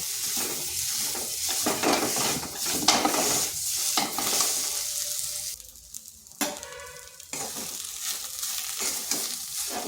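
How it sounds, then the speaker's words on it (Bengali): Mashed boiled potatoes worked through spices in a hot pan, heard as continuous close sizzling with repeated scraping spatula strokes and short pauses, with no one talking. "মশলার সাথে ভালোভাবে মিশিয়ে নিচ্ছি।"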